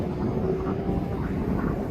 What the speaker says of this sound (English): There goes the Aer Lingus.